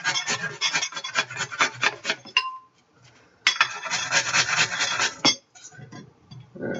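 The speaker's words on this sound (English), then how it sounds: "So I'm just going to grate my onion right here on this plate." An onion rubbed against a plate as a grater in a small kitchen, giving close, loud bursts of rapid rasping strokes with a brief pause midway and a short clink.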